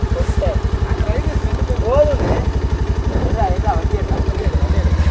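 A motorcycle engine chugs with a fast, even low-pitched pulse close by, idling and pulling away on a rough road while people talk over it.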